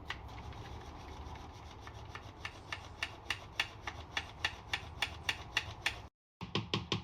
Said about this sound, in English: So you sift 1 1 3/4 cups of flour